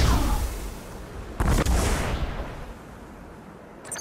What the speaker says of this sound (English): Or I could throw a Nova Bomb!